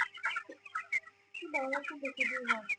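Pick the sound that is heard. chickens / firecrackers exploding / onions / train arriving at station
chickens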